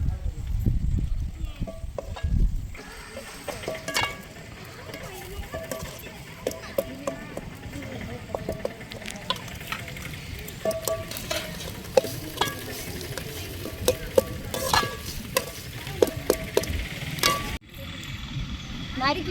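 Onion and ginger garlic paste fry in a pan with a steady, loud sizzle while a utensil stirs with repeated scraping and clinking strokes, and the sizzle drops off abruptly near the end.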